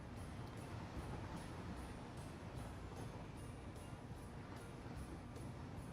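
A train rolls along in the video game Satisfactory, a steady low rumble with rhythmic clacking, continuous and even throughout with no talking.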